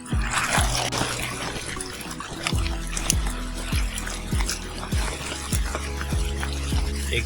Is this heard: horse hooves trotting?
no